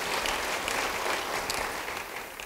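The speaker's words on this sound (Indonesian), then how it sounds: "Yang setuju beri tepuk tangan bagi Tuhan." A church congregation applauding during a sermon, dense and steady clapping from many hands that fills the space and fades slightly toward the end, with no speech over it.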